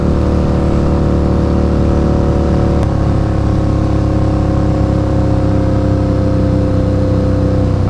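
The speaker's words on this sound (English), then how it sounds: "no baffles, so that's why it's a little bit loud" Loud, steady engine drone from a 2002 Harley-Davidson V-Rod motorcycle running a Tab exhaust with no baffles, sustained throughout with a brief shift partway in and no talking.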